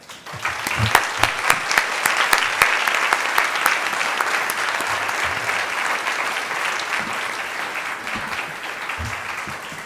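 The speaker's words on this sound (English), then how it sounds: "ask you all to join me in thanking and applauding all of our panelists and audience members today" A conference audience applauds its panelists in a sustained round of clapping that swells early and then eases slightly, with a few sharper claps standing out from the crowd noise.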